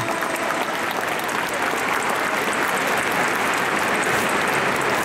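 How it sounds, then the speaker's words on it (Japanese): Stadium audience applause at a ceremony marking 150 years of baseball, after a ceremonial first pitch: dense, continuous clapping from a large crowd that holds at an even, loud level throughout. "今一度大きな拍手をお送りください"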